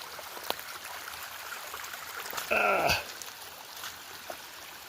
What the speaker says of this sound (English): There's a good stream running